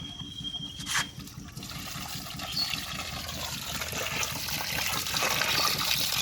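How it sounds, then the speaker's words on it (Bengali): Cut fresh river fish, bacha, being rinsed in water: steady close splashing and trickling runs throughout, with a brief louder gush near the start, no voices. "মাছগুলো সব কাটা হয়ে গেছে। এবার মাছগুলো সব ধুয়ে নেব।"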